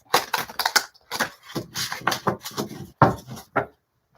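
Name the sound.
shuffling tarot cards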